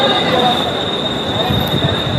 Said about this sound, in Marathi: तर भावना ट्रेन आली आता